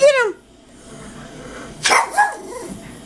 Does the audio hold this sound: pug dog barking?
yes